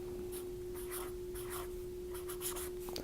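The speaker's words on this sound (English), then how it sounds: "Let's just write it down real quick." Pen or marker scratching across paper or a board in short bursts of strokes while notes are written down, with a steady electrical hum underneath and no talking.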